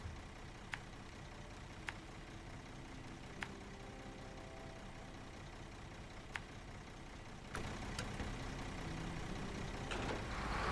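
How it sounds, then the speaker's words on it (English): A truck engine in the off-road driving game SnowRunner hums low and steady, with a few sharp clicks along the way, then grows louder and rougher toward the end, with no voices. "It's got my favorite engine noises."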